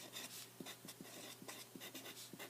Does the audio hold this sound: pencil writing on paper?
yes